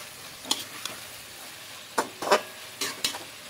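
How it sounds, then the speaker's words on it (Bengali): Half-boiled potatoes, fried fish-roe fritters and spice masala being mixed in a pan for fish-roe biryani: several distinct scraping stirs over a soft, steady sizzle, no voices. "এখানে আলুগুলো দিয়ে দেবো, দিয়ে মশলার সঙ্গে মিশিয়ে নেবো"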